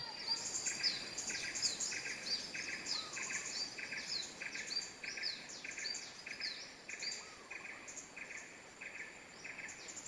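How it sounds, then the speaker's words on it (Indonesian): Wild birds sing and chirp in the trees around Lubuak Ambacang village in West Sumatra, with repeated high calls and trills over a steady bed of buzzing insects, continuous and moderately distant throughout. "lebih banyak lagi burung yang terbang bebas di atas pepohonan di sini"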